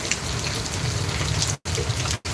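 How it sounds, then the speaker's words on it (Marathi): Heavy monsoon rain pours steadily in Mumbai, a dense continuous hiss broken by two brief dropouts. "हे बघा केवढा पाऊस पडतो"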